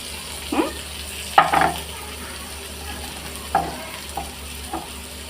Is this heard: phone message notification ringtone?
no